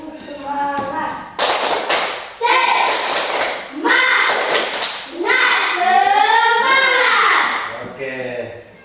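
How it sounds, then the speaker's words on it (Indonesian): A classroom of children performs a rhythmic spirit clap with a teacher, bursts of sharp group clapping alternating with chanted voices, close and loud. "Tepuk semangat dulu, tepuk semangat."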